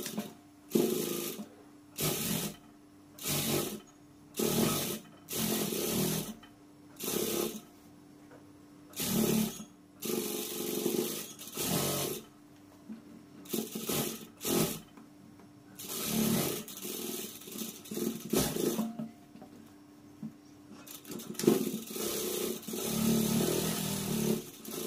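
A tailor's sewing machine stitches a blouse in repeated short runs of whirring needle motion, each burst stopping and starting again, close and loud with no talking.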